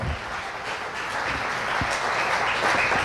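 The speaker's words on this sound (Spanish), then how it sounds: "Y que sea un aplauso sincero" A church congregation claps continuously, a dense, steady wash of applause that swells slightly toward the end.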